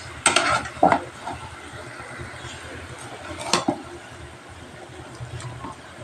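Spinach sautéing with salt and onions in oil makes a quiet, low sizzle. A few sharp spatula knocks against the pan come early and again midway.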